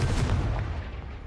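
Ring of Fire spell cast in Hogwarts Legacy, a dense, loud burst of fiery booming rumble that starts strong and slowly eases off over about a second, with no voices over it.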